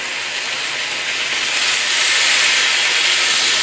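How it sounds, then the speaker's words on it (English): Stock poured into a very hot pan over ginger and garlic for a chicken stir fry, giving a loud, steady hiss that holds and swells slightly throughout. "I'm gonna add some stock."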